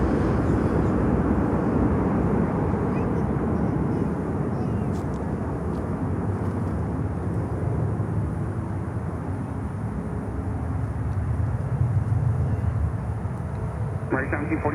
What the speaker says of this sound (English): There comes the ATR.